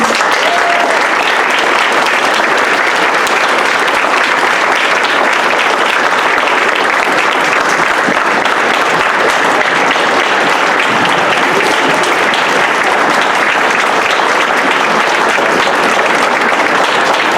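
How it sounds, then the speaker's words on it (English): A round of applause for student speakers at a school safety forum, loud, dense clapping from a large audience, sustained evenly throughout. "Let's get a round of applause for our speakers"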